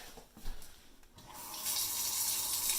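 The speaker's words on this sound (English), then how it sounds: "So I'm going to turn the water on." Water from a kitchen sink tap, just fitted with a new disposal unit, starts after a few soft knocks and settles into a steady, close, hissing gush.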